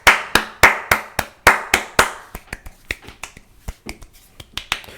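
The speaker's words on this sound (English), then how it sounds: "Let's applaud the talents." One person claps sharply in a quick rhythm, loud and close at first, then the claps grow softer and more scattered.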